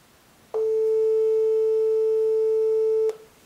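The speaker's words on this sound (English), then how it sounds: "we're going to play two frequencies, 440 hertz, one with a nice smooth sine wave" A pure, steady 440 Hz sine tone sounds alone for about two and a half seconds, starting and stopping abruptly.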